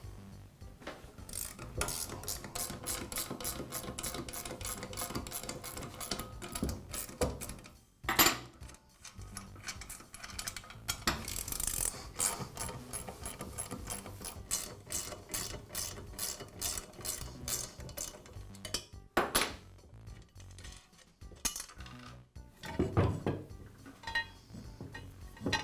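A blade guard comes off a Southland lawn edger, with a busy run of close metallic ratchet clicks, rattles and clanks from tools and metal parts, some louder knocks and clatters along the way.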